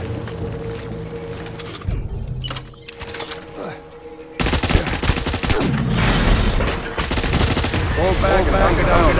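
Gunfire in the video game Death Stranding: loud bursts of automatic weapon fire and heavy impacts, dense and continuous in the second half, mixed with game effects and voice callouts.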